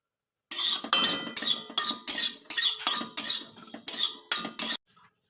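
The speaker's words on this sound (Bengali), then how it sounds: "নেড়ে চেড়ে ভেজে নেবো একটু" Whole cumin seeds dry-roasting in a hot kadai are stirred with a metal utensil. About ten crisp, rhythmic scraping clinks come up close and evenly spaced, then stop in silence.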